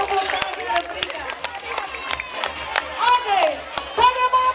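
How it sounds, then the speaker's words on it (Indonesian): Audience applause at a bird show: scattered, uneven clapping and crowd noise with sharp hand claps throughout, fairly close, mixed with background chatter. "terima kasih atas tepuk tangan yang kita berikan"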